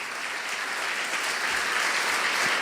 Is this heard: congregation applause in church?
yes